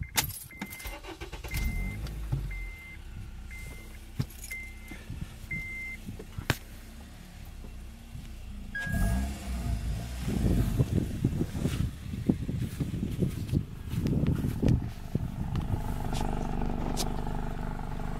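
A 2009-2010 Acura TSX runs with an RV6 J pipe and test pipe but a stock cat-back exhaust. It idles quietly at first with a few light clicks, then its engine rises into a louder, rougher rev that lasts to the end.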